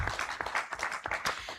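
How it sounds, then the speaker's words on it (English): Audience at an agricultural extension week event in Uganda gives a short round of applause for a professor, moderate clapping that sounds a little distant and fairly faint. "Please join me in giving her a big round of applause"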